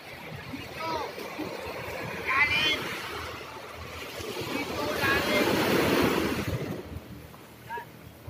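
Ocean surf rolling onto Espy Beach in Real, Quezon, as a steady, broad wash that swells into a loud, near surge midway, mixed with wind buffeting and faint voices.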